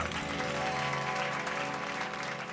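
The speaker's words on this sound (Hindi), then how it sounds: "तो इस बचपन के लिए बजाइए एक बार जोरदार तालियां" Loud applause for children at a stage event fills the whole stretch as a steady wash of clapping, with sustained musical tones underneath.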